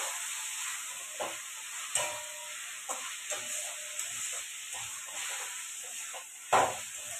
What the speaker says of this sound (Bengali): উচ্ছেটাকে ভাজবো।